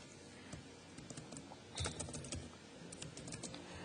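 Steady typing on a computer keyboard while entering a title and markdown text into a web form, with quiet, close, continuous key clicks and a brief burst of firmer taps partway through.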